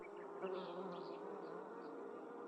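Bees buzzing around a beehive, a dense steady drone with faint individual insects passing by, soft and continuous with no talking.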